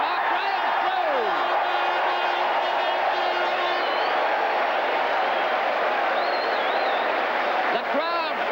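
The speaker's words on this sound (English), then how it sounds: "The crowd applauding Mark Graham" A rugby league crowd at a 1981 New Zealand vs France test applauds and cheers a running play, steady broad clapping under a commentator's voice.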